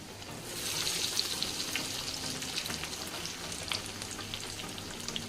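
Moong dal vadas deep fry in hot oil with a steady, soft crackling sizzle and scattered small pops throughout, fairly quiet and without voices.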